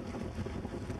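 Strong wind roars against the microphone on a boat on Caspe lake, a steady close rumble with no other sounds.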